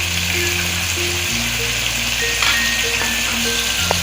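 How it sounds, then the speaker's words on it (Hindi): Ginger, garlic and green chili paste sizzles in a pan with onions and tomatoes for mutton nihari, a steady, loud frying hiss running throughout over a constant background hum, with no voices. "अभी बाकी मसाले हम डाल देंगे, जिसमें अदरक, लहसुन और सब्ज़ मिर्च जो कुटी हुई जिसका पेस्ट बनाया हुआ है"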